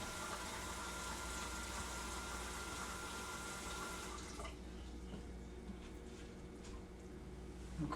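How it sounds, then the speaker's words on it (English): Water pours into a pot of pinto beans with ham hocks, a steady close splashing stream that runs for about four seconds, then gives way to quieter dripping and trickling. "Just a little more water in here."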